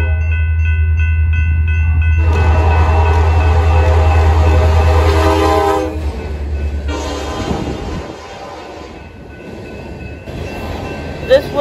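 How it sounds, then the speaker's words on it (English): A train rumbles past close by in LaSalle, Michigan at dusk with a long, loud horn blast, then the roar fades into quieter rail noise and clatter. "This will be the last train."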